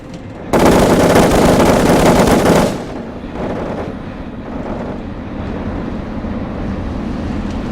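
Loud, dense automatic gunfire from a LuckCatchers video game: a sustained burst of rapid shots for about two seconds, then lower, busier game sounds continue underneath.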